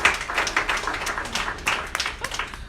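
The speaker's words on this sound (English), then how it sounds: "Can we just give them a quick round of applause before we start?" A short round of audience applause at a money talk event in Wellington, made of many close individual claps at fairly even loudness, pulsing briefly before tapering off.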